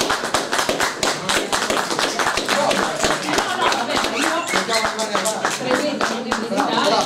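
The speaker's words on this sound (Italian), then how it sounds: "quindi qui c'è un applauso di quegli amichissimi, Stefano Cabrera." Audience applause for a cellist at a shop opening with a live string ensemble, dense steady clapping throughout with voices and cheers mixed in, loud and close.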